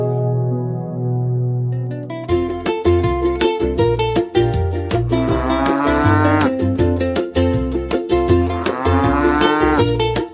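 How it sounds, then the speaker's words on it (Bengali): Cows in a quiet village moo loudly and close by, long drawn-out calls overlapping after a brief lead-in, set against a rhythmic musical backing. "ও রফিক ভাই, তোমার গরুগুলো বেশ শক্তিশালী হয়েছে দেখছি।"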